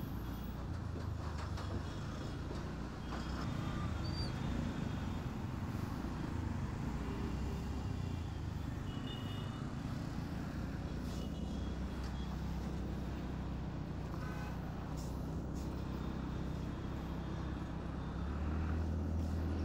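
Steady road traffic noise recorded from a TVS Ntorq scooter riding out of Mumbai toward Bhimashankar, a continuous loud rumble of engines and wind throughout with no talking.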